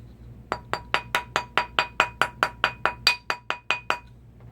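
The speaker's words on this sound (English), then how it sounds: "Rawhide mallet leaves no marks." About fifteen evenly spaced sharp clinking taps as a rawhide mallet strikes a ladies' gold ruby and diamond ring on a mandrel during sizing, each hit ringing briefly, close and fairly loud with no talking.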